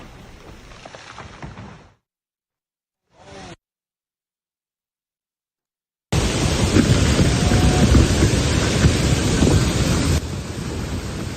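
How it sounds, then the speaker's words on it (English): Heavy pounding rain roars as a dense, steady wash of noise after a short muffled stretch and a silent gap, with a low rumble beneath. "listen to that. The pounding rain"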